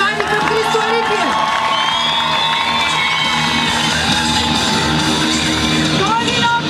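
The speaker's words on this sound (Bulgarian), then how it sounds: "Къде са аплодисментите на любимчани към Христо Липиев?" A town crowd in Lyubimets cheers and whoops for Hristo Lipiev at an evening event, loud shouting and yelling voices close by with some clapping mixed into the noisy crowd.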